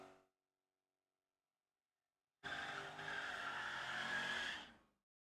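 Ford Mustang and red Corvette race cars launch at Firebird, a loud roaring burst with screeching tires that lasts about two seconds after a long silence, then cuts off.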